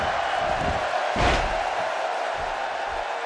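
Raucous arena crowd in WWE 2K17, a dense continuous roar with a brief louder surge in the middle.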